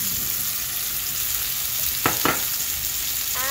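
Constant close sizzle of tuna steak searing in a pan as garlic is added, the hiss swelling with two sharp scraping stirs, then a short faint chirp at the end.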